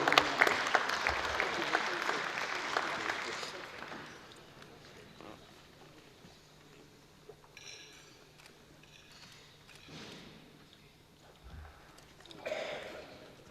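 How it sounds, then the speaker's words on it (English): Audience applause at a public sector audit awards ceremony, a dense burst of clapping for the first few seconds that fades into quieter scattered claps and room noise, with a brief swell again near the end. "A round of applause, ladies and gentlemen."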